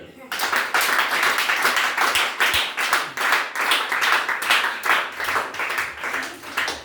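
A church congregation claps in a steady rhythmic beat to acclaim the Lord. The sharp, loud hand claps repeat evenly throughout, with voices mixed in underneath.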